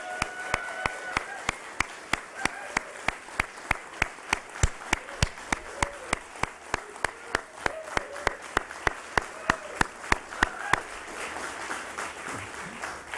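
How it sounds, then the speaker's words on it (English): A small group claps at a Nasdaq closing bell ceremony, distinct individual hand claps in a fairly regular rhythm, close and crisp, fading out near the end. "one that I think deserves a big round of applause"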